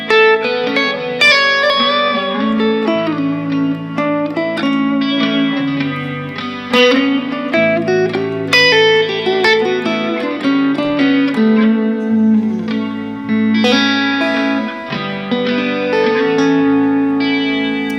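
Electric guitar plays a flowing single-note Mixolydian lick on chord tones with a swinging feel, processed with effects and reverb, continuous and prominent.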